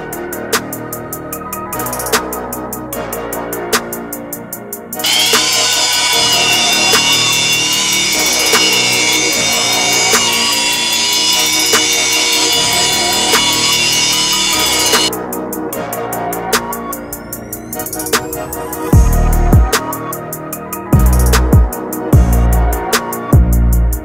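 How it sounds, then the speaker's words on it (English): A power polisher whirs steadily with a high, grinding tone, buffing the paint on a VW Jetta TDI, starting and stopping a few times, with some knocking and handling noises near the end. "we're gonna see if we can get it looking good with just buffing and no sanding at all"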